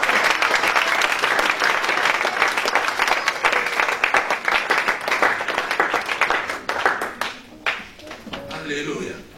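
A church congregation applauds, a dense, loud roll of clapping that thins into scattered claps and fades toward the end, with voices mixed in.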